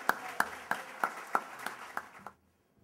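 Applause for cybersecurity leaders at a 2012 cybersecurity symposium and awards event, heard as a series of sharp, evenly spaced claps that thin out and stop after about two seconds, leaving silence.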